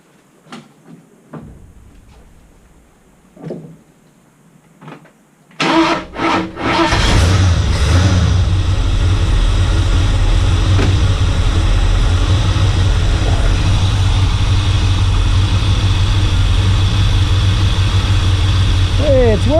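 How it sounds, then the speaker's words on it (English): An XC Ford Falcon 351 wagon is started. A few faint clicks and knocks come first, then the V8 cranks, catches and settles into a loud, steady, rumbling idle that carries on to the end. "I'll go start the car"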